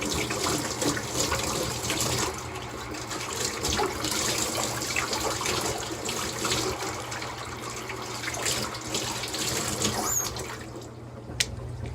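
Water runs from a sink tap for a quick rinse after a shave, a continuous close splashing flow lasting throughout with a few small clicks near the end, no talking.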